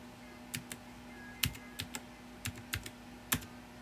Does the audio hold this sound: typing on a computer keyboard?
yes